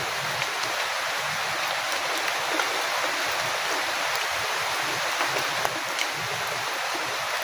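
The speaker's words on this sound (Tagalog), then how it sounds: "Malakas na po ang ulan" Heavy rain falls in a steady, dense hiss with no break, close and fairly loud, and no voices are heard.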